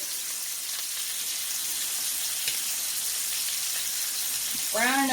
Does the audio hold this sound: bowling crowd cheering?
no